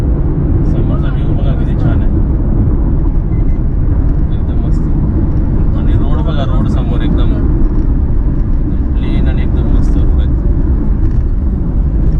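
Inside a car moving along a road, a loud, steady low rumble of engine and tyres fills the whole stretch while people talk over it.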